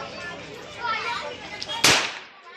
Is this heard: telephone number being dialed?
no